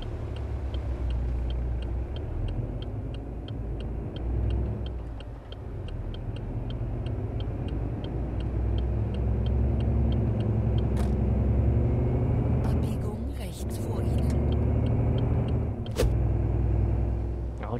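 Simulated diesel engine of a Ford F-MAX truck cruising in eleventh gear at roughly 1,000–1,200 rpm in Euro Truck Simulator 2, a steady low drone with faint regular ticking and a few brief clicks.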